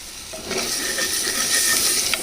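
Ginger and garlic paste for chole sauté in hot oil, giving a soft, steady sizzle with faint scraping and clinks from stirring, no talk.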